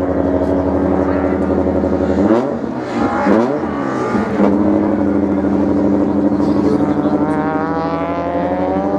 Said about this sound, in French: Sur cette Peugeot 309 très rutilante qui va s'élancer dans quelques instants